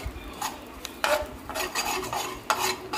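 Chopped onion roasting over a low flame in a pan for a prawn dish, heard as repeated scraping and stirring strokes of a spoon against the pan, with a soft sizzle underneath and no talking.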